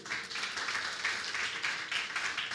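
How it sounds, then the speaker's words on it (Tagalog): A church congregation claps steadily for a few seconds during a worship service, a dense, even patter of many hands with no voices over it. "Palakpak naman sa mga nagbabasa ng Biblia"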